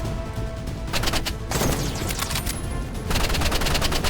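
Sniper rifle fire in the Roblox game Rivals cracks out in several sharp, loud bursts in quick succession, with short gaps between them and no voices.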